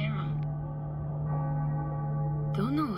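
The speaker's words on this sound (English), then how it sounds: "Bells were cracked too. Gave off this eerie atonal clang." Cracked bells in the video game Cyberpunk give off an eerie, atonal clang. It settles into a steady, humming drone with faint ringing overtones, and a wavering higher tone rises near the end.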